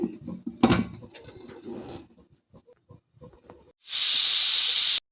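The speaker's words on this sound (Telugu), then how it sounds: "కుక్కర్ మూత పెట్టుకొని 3 విజిల్స్ రానివ్వాలి." A loud, steady high-pitched hiss of a pressure cooker whistle, cooking jackfruit seeds, bursts in near the end and holds for about a second, after quieter clattering and bubbling.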